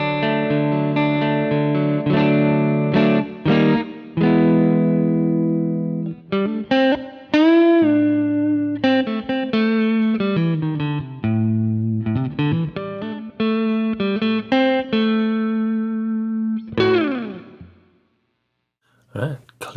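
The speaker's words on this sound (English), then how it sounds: "Clean tones, middle pickup." An electric guitar played through its middle pickup with a clean tone rings out alone in a busy run of picked notes and chords, bending and sliding before fading to silence at the end.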